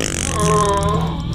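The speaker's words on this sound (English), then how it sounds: "Dude, stop farting." A cartoonish, drawn-out fart sound effect with a buzzing, tonal quality, loud and close, lasting just over a second.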